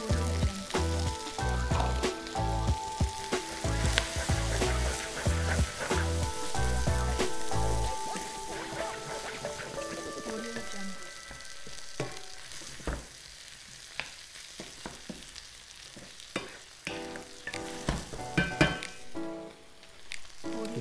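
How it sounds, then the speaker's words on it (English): Chorizo and onion frying in a pan for chicken paella, a continuous sizzle with stirring scrapes and clatter, loud at first and then settling to a softer crackle. "Add in some chorizo. Now I'll add in a bit of onion."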